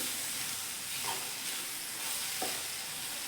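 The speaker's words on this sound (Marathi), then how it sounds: "तेल सुटलेलं इकडं आणि शिजत पण आलेली ही भाजी" Hadga flower vegetable cooking in oil, a steady close sizzle and hiss of frying with occasional soft stirring scrapes.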